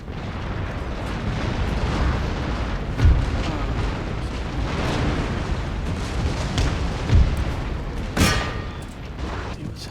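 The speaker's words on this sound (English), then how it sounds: "See what's happening here with the cannons." Cannon fire in the Empire Total War strategy game: a dense continuous roar of battle with three or four sharper booming blasts standing out over it, with some voice mixed in.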